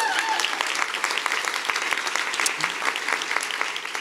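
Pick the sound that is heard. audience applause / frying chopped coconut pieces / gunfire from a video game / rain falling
audience applause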